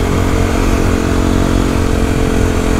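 A motorcycle engine runs loud and steady at high revs in a video game, a continuous dense roar filling the whole stretch with no talking over it.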